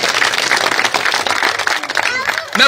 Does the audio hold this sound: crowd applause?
yes